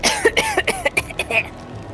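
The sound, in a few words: coughing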